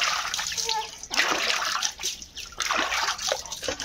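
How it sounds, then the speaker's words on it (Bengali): Water is poured over a child at bath time, splashing and sloshing continuously in close, loud bursts with brief pauses, as a voice speaks over the running water. "নাও আমি জল দেবো।"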